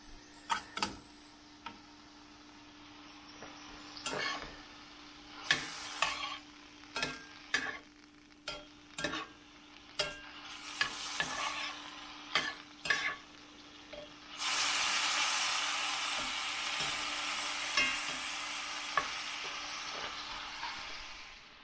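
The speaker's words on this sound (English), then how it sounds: "Also, saute in the rest of the mushrooms." Chanterelle mushrooms sautéing in a pan: soft sizzle broken by sharp utensil clicks and scrapes, then a louder burst of frying hiss midway, close and with no talk.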